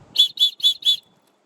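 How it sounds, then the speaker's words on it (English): Survival kit whistle blown in four short, shrill, evenly spaced blasts, close and loud, followed by silence. "Got your whistle."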